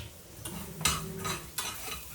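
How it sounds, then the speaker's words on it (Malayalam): Masala with chili and turmeric powder sautéed in a pan over low flame, several scraping spoon strokes at irregular intervals over a soft sizzle, close and quiet. "എന്നിട്ട് ഇത് നന്നായിട്ടൊന്ന് വഴറ്റിയെടുക്കാം"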